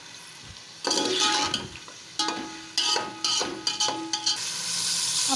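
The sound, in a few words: chicken meat frying in pan for nihari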